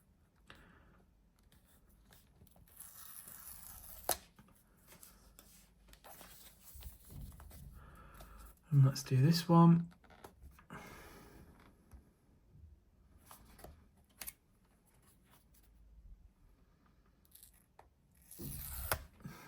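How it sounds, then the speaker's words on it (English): Paper seal strips are torn off a white iPhone 16e box, a short loud ripping burst near the middle amid quieter rustling and handling, with someone speaking briefly. "let's take off these strips. There is no cellophane anymore, it's all with these paper strips"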